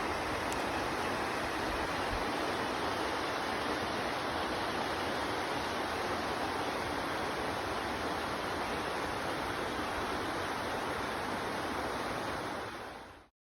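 Water rushes over rocks in a stream at Beavers Bend, a dense, steady roar held at even loudness for over twelve seconds before cutting off, with no voices.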